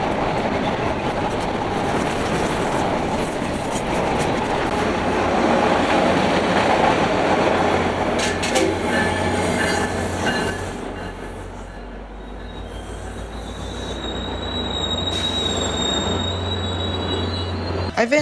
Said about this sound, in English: another frontrunner came into the station, this time heading northbound with MP36 number 3 leading